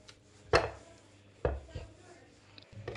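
Food chopper blades cutting three small bananas down to a paste, heard as three separate bursts of chopping, each a sharp hit followed by a short rattle, close and clear with no talking.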